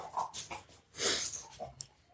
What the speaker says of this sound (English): My dog kind of came up and messed with us a little bit, wanting to play